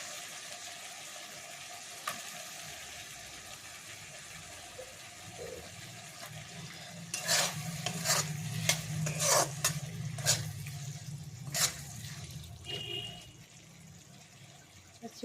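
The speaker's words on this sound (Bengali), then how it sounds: "চিংড়ি মাছটা দিয়ে একটুখানি কষাবো আর 2 মিনিট মতো" Prawns being stirred and fried in a thick spice masala in a pan, a low steady sizzle under a run of sharp scraping and clacking utensil strokes, close, with no speech.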